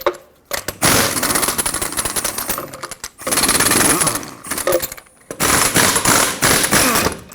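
Three loud bursts of a rattling impact tool removing rusted, swollen lug nuts from a 2009-2014 Ford F-150 wheel, each hammering run lasting a second or two with short silent pauses between.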